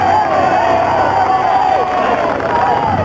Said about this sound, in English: At the finish, there's a great cheer for Christophe Levent